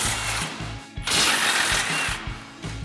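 A tool with an 18mm socket spins off the lower strut mounting nuts on a Ford F-150 front knuckle, making loud, close mechanical whirring bursts with short pauses between them.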